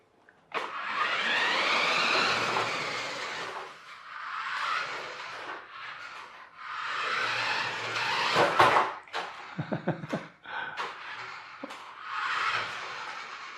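A radio-controlled conversion of a toy Barbie Jeep drives in bursts, its small electric motor whining steadily, then stopping and starting with short revs and knocks, fairly close and alone.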